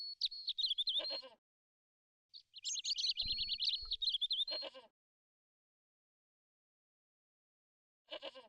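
A tethered goat in the Broken Sword video game bleats in two short wavering calls separated by silence, with a brief low thud between them and a third call starting at the very end.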